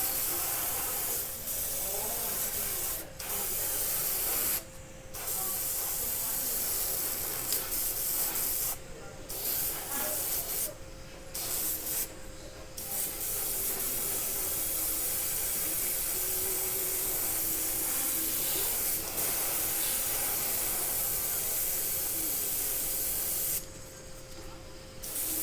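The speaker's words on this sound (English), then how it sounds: "So this paint doesn't spray great" An aerosol can of spray paint hisses in long continuous bursts, broken by a few short pauses, close and steady with a faint hum underneath.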